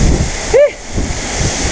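Bacoco Falls in Kapatagan gushes strongly, giving a loud, close, continuous roar of water broken briefly by a single high, whistle-like tone partway through.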